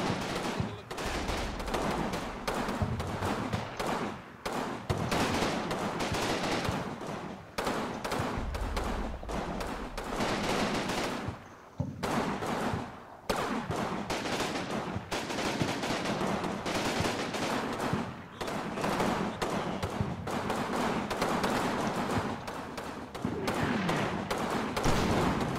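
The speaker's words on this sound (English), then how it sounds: "And the 81mm mortars are landing a little bit." In the Combat Mission war game, 81mm mortar shells land amid a dense, continuous barrage of distant booms, thuds and rattling gunfire that runs almost without a break.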